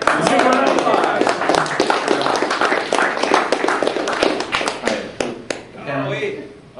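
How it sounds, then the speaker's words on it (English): A small meetup crowd claps for a book prize winner, giving dense close-up applause mixed with cheering and excited voices that tapers off near the end. "It's a round of applause!"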